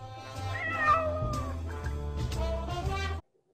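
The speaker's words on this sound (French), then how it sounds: "on a effectivement adopté un chaton en 2018" A kitten meows in a drawn-out, wavering cry lasting about three seconds, close and clear with no talking, then cuts off abruptly.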